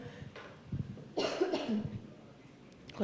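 A few hoarse coughs from one person, close and moderately loud, followed by a quieter throat-clearing rasp.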